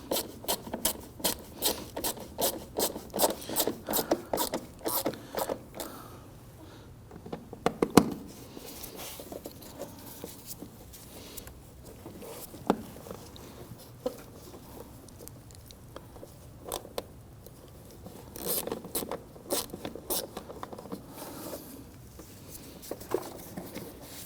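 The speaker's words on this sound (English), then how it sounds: "let's go ahead and secure the screws on our lid box here." Screws are driven into the lid box of a 2009-2017 Volvo XC60 during radiator cooling fan replacement, making close, quiet ticking and rattling clicks in uneven bursts.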